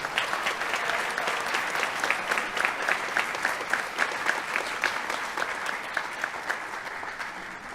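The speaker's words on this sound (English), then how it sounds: "Let's give one more round of applause for our student athletes." A crowd claps for student athletes at a high school senior athletic awards ceremony, a full sustained round of applause with sharp individual claps standing out, fading slightly toward the end.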